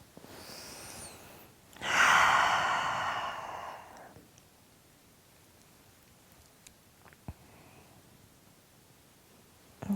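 A slow, breathy exhale during a yoga forward fold, rising to a soft rushing peak, fading over a couple of seconds, then followed by quiet with a few small rustles.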